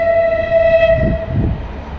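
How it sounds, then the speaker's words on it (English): Train in Tunisia passing close by, its horn sounding a long steady blast over the low rumble of the cars, loud and near. "That's the train behind me."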